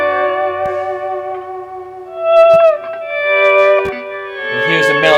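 Pedal steel guitar plays sustained, gliding chords with echo and reverb, its held notes bending smoothly as a melody line rises above them in a mixed studio track.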